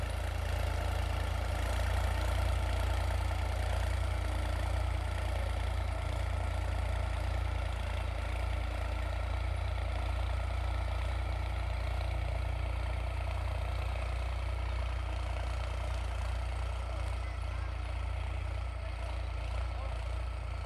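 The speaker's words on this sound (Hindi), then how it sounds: "अब लेजर लेवलर चल रहा है न्यू हॉलैंड 3630 पे" A New Holland 3630 tractor engine runs steadily, pulling a Spectra laser leveler with double rear wheels across a field, a continuous low diesel drone with no breaks.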